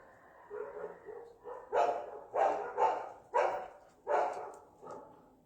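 Dogs bark repeatedly at a moderate distance, about eight sharp barks in an uneven rhythm, with no talking.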